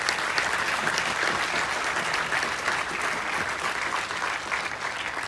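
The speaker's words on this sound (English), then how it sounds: "Can we have a round of resounding applause for her?" Audience at a St. Joseph's College Day celebration applauding, steady sustained clapping from a large crowd in a hall, continuous throughout.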